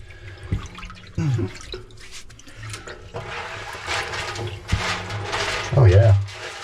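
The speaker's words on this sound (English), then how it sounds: "Alright, tip the barrel, get it all to one side." Water sloshes and splashes inside a tipped 55-gallon drum holding cast copper shot, in uneven surges with a hollow metallic resonance, while a person speaks briefly over the movement.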